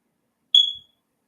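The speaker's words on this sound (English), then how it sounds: "you have to put batteries in the smoke alarm" A single short, high-pitched electronic beep from a smoke alarm, sharp at onset and fading quickly, alone in silence.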